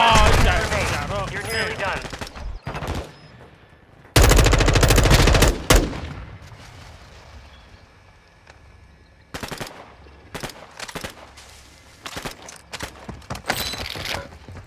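Loud machine gun bursts in the Warzone video game, with heavy sustained volleys early on followed by sporadic shorter shots and impacts, while players talk over the action.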